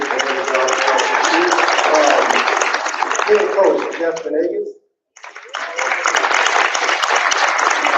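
Audience applause fills a board of education meeting, loud and steady clapping from a crowd, briefly dropping out before resuming; a man announces names over it.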